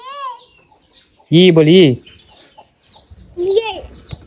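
Chickens squawk and cluck loudly as they scatter, a harsh burst near the middle and another shorter one near the end, with people speaking around them.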